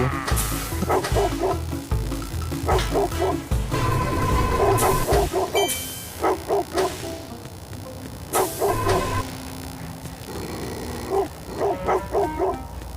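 A dog barks repeatedly in short bursts over a continuous musical backing in the video game Robbery Bob 2, with a few whimpering yips mixed in; the barks sound fairly close and loud.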